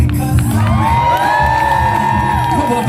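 A crowd cheers and whoops at an evening parkour show at the CNE, a short burst of shouting and yelling voices at moderate distance.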